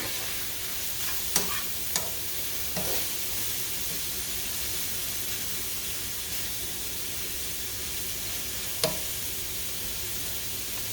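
Breakfast sausage for sausage gravy fries in a pan with a loud, continuous hissing sizzle, broken by a few sharp clicks as a utensil stirs and scrapes through the meat.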